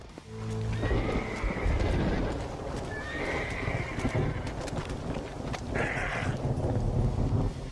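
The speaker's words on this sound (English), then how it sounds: "you can obtain a number of unique horses, such as the 4 horses of the Apocalypse" Horses from the Red Dead Redemption Undead Nightmare expansion whinny loudly near the start and again midway, with steady galloping hoofbeats pounding throughout over a windy outdoor bed.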